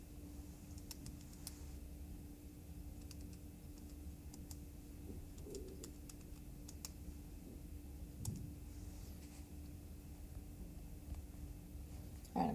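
Soft, quick key presses on a calculator keypad as numbers are entered, faint clicks spread across the stretch in an irregular rhythm over quiet room tone, with no talking.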